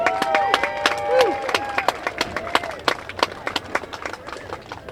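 Scattered applause from a parade crowd lining the street in Rouses Point, sharp irregular claps mixed with crowd noise and some cheering over an outdoor background.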